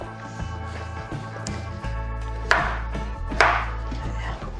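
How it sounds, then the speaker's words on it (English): A knife roughly chops washed carrots on a board in steady, repeated close cuts, with a constant low kitchen hum beneath and a couple of sharper knocks. "roughly chop"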